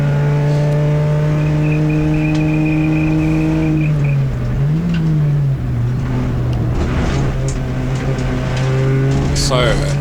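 A CityCar Cup race car drives at Silverstone in a club race, its engine droning loud and close with a strong steady tone that dips and recovers as revs shift, with wind and road rumble building.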